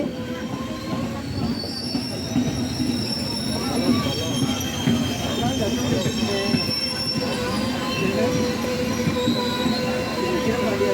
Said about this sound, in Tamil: நமக்கு ஆப்போசிட்டில் கார்ட்லேண்ட் லெஜெண்ட்ரின்னு சொல்லக்கூடிய Pallavan super fast express train வர்றதை நம்ம பார்க்க முடிஞ்சுது